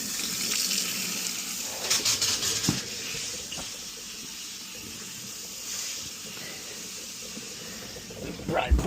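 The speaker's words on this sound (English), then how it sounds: "That's on. Dishwasher's on. Faucets are on." Faucets running full under a newly repiped kitchen sink, with the dishwasher also on. The water rushes and hisses loudly and steadily, with brief louder splashing surges near the start and end.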